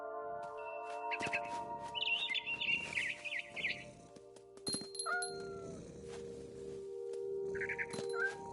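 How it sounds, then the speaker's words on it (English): A barn swallow chirps outside a window near its nest, giving short bursts of bright, quick chirps separated by pauses. The chirps are fairly faint and mixed with other soft sounds. "Then I heard chirping outside my window. It was a barn swallow going back to her nest."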